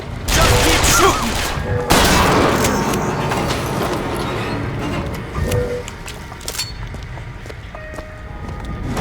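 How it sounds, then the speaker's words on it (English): Gunfire in the video game BioShock Infinite: loud bursts of rapid shots and booms at the start, then a lingering rumble, clinks and scattered impacts that trail off as the fighting fades. "Just keep shooting."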